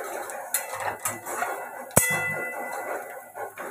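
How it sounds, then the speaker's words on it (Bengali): A spoon stirs asafoetida in a cooking pan, giving scattered metallic clinks and scrapes against the pan, with one sharp clang midway, over a low kitchen background. "হিং দিয়ে একটুখানি নেড়ে দেবো।"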